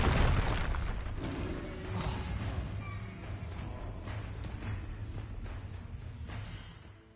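A Confringo explosion spell goes off in the video game Hogwarts Legacy: a heavy boom at the start that rumbles and fades, followed by lighter magical bursts and pops over a low background.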